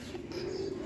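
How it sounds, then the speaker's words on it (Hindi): A single soft, low coo from a Cheene pigeon, close and steady, over faint background noise. "बहुत ही शानदार कबूतर है भाई"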